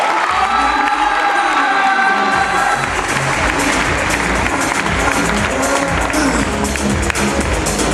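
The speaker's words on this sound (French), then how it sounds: "on vous applaudit fort, en tout cas," Audience at the Miss Rouen 2017 election applauds and cheers loudly, dense clapping mixed with shouts that carries on without pause, a little brighter at the start.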